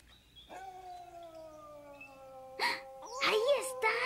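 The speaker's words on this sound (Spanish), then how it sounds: "¡Son ellos! ¡Están aullando!" Wild dogs in an animated film let out a long, sliding, mournful howl that holds for a couple of seconds, then breaks into rougher yelping cries and overlapping voices.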